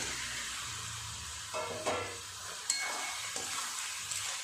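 Soaked soybean chunks going into a spice paste frying in a pan, a faint, soft hiss and sizzle with a few light stirring scrapes and clinks, quiet and close with no talking.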